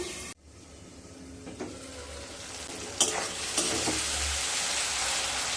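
Spice masala sizzling and frying in a pan for drumstick curry, with steady close-up sizzle after a brief cut at the start and a few spoon scrapes and stirs partway through.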